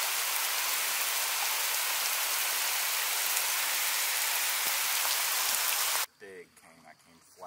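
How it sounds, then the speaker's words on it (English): Hail falling on river water during a king salmon fishing trip, a dense, loud hiss of countless tiny impacts pouring down continuously before cutting off abruptly near the end, followed by quieter sounds. "Dude, that is hail."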